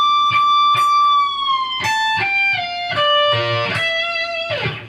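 Distorted electric guitar playing the solo lick from a song: sustained, singing lead notes with bends and slides stepping downward, loud and close with no voices.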